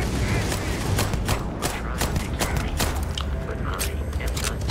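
Rapid bursts of gunfire fill a firefight in the sci-fi video game Starfield, with dense, repeated sharp shots and impacts running loud and close throughout.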